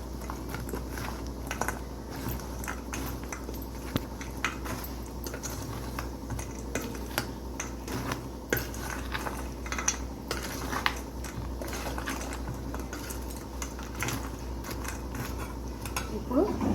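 Salt, chili, mustard and cumin powders are stirred into chicken pickle with a spoon, giving scattered clinks and scrapes against the vessel and faint wet mixing sounds in a quiet kitchen.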